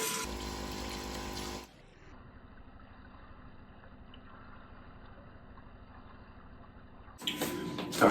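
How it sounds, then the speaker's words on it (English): Hot water running steadily into a PicoBrew C brewing machine for a manual five-gallon brew, a constant soft pouring rush for several seconds, bracketed by louder, brighter water noise at the start and end, no talking. "I'm going to add 2 liters of water. And again, I use hot water."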